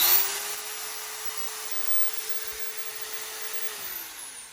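A Makita 9032 belt sander runs at its top speed setting 6, a steady loud high motor whine with a constant hissing belt that holds evenly before the pitch drops as it winds down.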